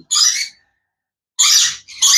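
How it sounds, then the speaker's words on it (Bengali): A yellow-collared lory at a bird market gives two harsh, loud squawks separated by a pause, then a third begins, close up with no talk. "এটা কিন্তু ইয়েলো কলার লরি।"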